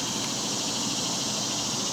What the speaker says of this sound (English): Are those cicadas? Is that what I'm hearing?